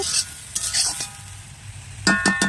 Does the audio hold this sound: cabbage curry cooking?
yes